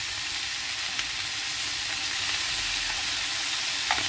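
Chicken pieces fry in soy sauce in their own fat with no added oil, giving a steady, dense sizzle over medium heat with a few sharp pops and crackles.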